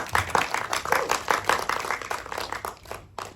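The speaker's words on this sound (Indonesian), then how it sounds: "Tepuk tangan aja dong." An audience at a film festival announcement claps, a dense, lively patter of many hands that is loud at first, then gradually thins and fades out.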